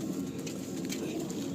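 Pigeons coo inside a loft of birds kept for sale, soft repeated low calls from several birds blending into a steady murmur, close by and continuous.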